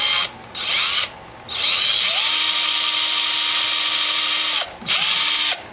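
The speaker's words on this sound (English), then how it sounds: "drill very slowly at first till I'm convinced I'm in the center" A power drill bores a hole for a guitar tuning key, running in bursts with a high whine, stopping and restarting, then holding a long steady run at slow speed.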